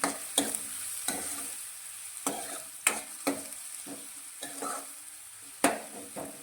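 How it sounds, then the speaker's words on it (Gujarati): Chopped onion sautéing in a pan with a low background sizzle, broken by repeated sharp stirring scrapes and taps of a spoon at irregular intervals, close and clear with no talking. "હવે ડુંગળીને આપણે થોડી સંતળાવા દઈશું"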